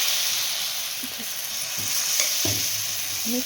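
Thin batter sizzles on a tava griddle greased with a little oil. It is a steady, close, broadband hiss that runs the whole time, with a few soft low knocks and scrapes underneath.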